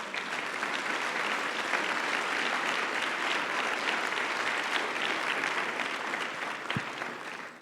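A church congregation at a Sunday service applauds in a sustained, even burst of many hands clapping, moderately loud and continuous throughout with no talking.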